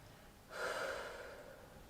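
Slow, steady breath exhaled during a calm yoga breathing exercise, a soft airy rush rising suddenly and then gently tapering over about a second and a half, close and quiet, with no talking.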